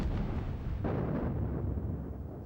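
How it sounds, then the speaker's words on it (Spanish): A First World War battlefield explosion: a dull, low rumbling blast rolls in and then lingers as a deep boom that slowly dies away, heard alone at moderate loudness. "Oías una explosión"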